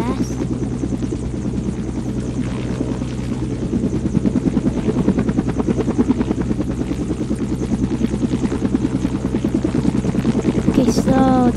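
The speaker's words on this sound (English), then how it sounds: "Whoa, this helicopter's fast." Helicopter in flight with a steady, loud rotor and engine drone throughout, rising slightly partway through, with a voice speaking over it.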